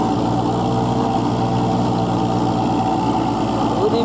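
Kubota MU4501 tractor pulling a 6 ft Shaktiman rotavator under load, a steady, loud, close diesel drone with a constant churning rumble throughout, no pauses.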